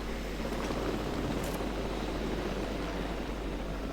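Helicopter arriving in the video game Jurassic World Evolution 2, a steady droning engine and rotor hum that stays even and moderately loud with no talk over it.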